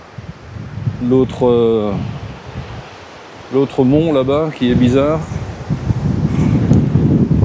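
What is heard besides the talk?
strong wind blowing outdoors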